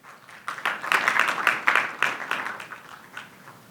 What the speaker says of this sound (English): Big round of applause to Mr. Nilesh Desai